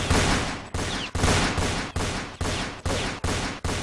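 Rapid gunfire in the Roblox Fortnite Simulator video game: a steady string of about eight loud, sharp shots, each cracking sharply and then decaying, fired close to the listener with no pause between them.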